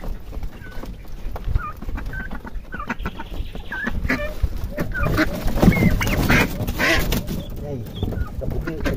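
A mother duck is let loose among her ducklings on a farm, giving scattered honks and quacks over a busy mix of chirps and clucks from other fowl, with a voice talking at times.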